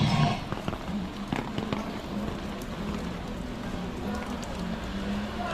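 Steady rain falls outdoors, a continuous wash of hiss and patter that stays fairly loud and even, with a few slightly stronger bursts near the start.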